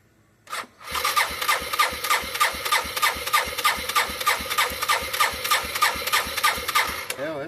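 A small engine with the fuel on and some choke is pulled over once, then catches and runs loudly and roughly, pulsing in a fast, uneven rhythm close by until it stutters near the end.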